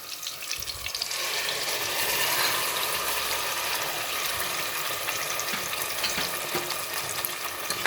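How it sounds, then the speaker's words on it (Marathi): Ground masala paste frying with tomatoes in a pan for a bottle gourd curry, a steady loud sizzling hiss running without a break, no voices. "आता आपण हे वॉटण टाकणार आहोत त्याच्यामध्ये"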